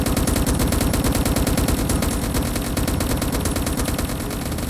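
Rapid automatic turret gunfire pounds against a Warbringer tank in Roblox A Dusty Trip, a dense, loud, unbroken rattle of shots that runs steadily throughout with no pauses.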